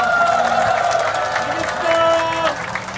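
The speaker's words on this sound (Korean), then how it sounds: "박수 부탁드리겠습니다" Crowd at an outdoor election campaign rally for a district head by-election applauds amid cheering and murmuring, with voices and tonal sound over the steady clapping.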